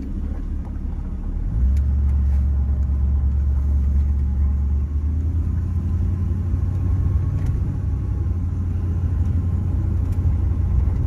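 A 1978 Mercury Grand Marquis coupe's engine rumbles steadily from the inside as it drives on a highway, a low continuous drone that swells after the first couple of seconds and holds.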